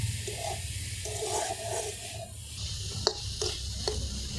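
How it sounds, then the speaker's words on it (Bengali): A sweet coconut and sugar pitha filling being stirred in a wok, with a steady scraping and sizzling texture close up and a few sharp metallic taps of the spatula against the pan near the end. "এই চিনি দেওয়ার পর খুব সুন্দরভাবে নাড়াচাড়া করতে হবে, যাতে কড়াই কোনোভাবে না লেগে যায়।"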